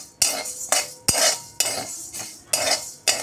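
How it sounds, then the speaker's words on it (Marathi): Coriander seeds being dry-heated in a pan for chakli flour, stirred with a metal spoon that scrapes and clinks against the pan in about six distinct strokes with steady rattling between them, close and fairly loud. "आता आपण याच्यामध्ये धने गरम करून घेणार आहे।"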